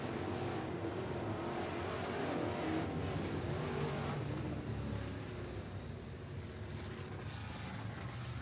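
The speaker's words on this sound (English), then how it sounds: "As Ben Gunderson slowing on the front straightaway, we're going to get a caution flag." IMCA Modified race cars circle the Skagit Speedway dirt track, a steady broad engine roar heard from a distance that fades slightly toward the end, with no voices.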